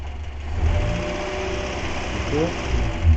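A car engine fitted with a Solex 28 carburettor runs at raised, held idle, a steady close hum with a low throb, while someone talks over it.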